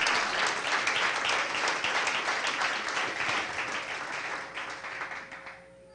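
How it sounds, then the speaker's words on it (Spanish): A church congregation breaks into loud, sustained applause that slowly thins and dies away near the end, with a faint voice underneath. "Le damos un aplauso a Jesús."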